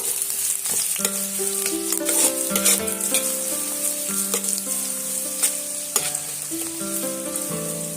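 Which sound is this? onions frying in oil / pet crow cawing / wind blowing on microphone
onions frying in oil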